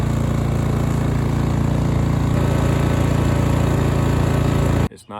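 A lawn mower lowered to its bottom deck notch scalps a Bermuda grass lawn, a loud, steady close engine drone running unbroken for about five seconds before cutting off abruptly at the end.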